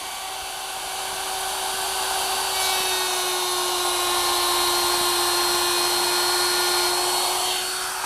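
Router spinning at high speed while cutting a widened groove in wood, a loud continuous high-pitched whine with a steady tone that holds throughout, rising slightly as the bit bites in.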